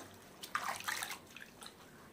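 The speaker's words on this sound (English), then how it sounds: "rinse it in another basket with clean water to make sure all the bacteria are washed off" Brief splashing of hands being rinsed in a basket of clean water after diaper changing, a short soft burst of dripping and sloshing near the microphone.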